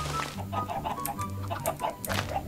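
Chickens in the Minecraft video game cluck steadily in a crowd, overlapping soft clucks repeating over a low background drone with no talking.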